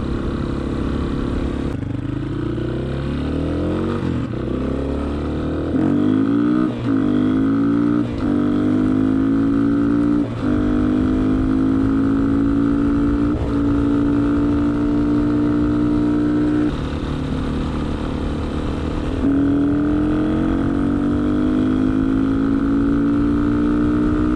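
A Honda XLR125R single-cylinder motorcycle with a Keihin PZ30B carburetor rides a flat road in third gear at about 40 km/h, its engine droning steadily close by and rising in pitch with each small throttle surge.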